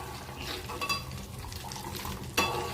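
Ghee is stirred in a pan with the gas turned off, producing soft scraping and clinking of a utensil against the metal over a faint sizzle, with one louder scrape near the end.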